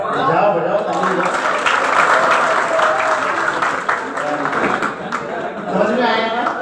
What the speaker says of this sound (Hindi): चलो सब लोग बजाओ ताली बजाओ बजाओ बजाओ ताली बजाओ।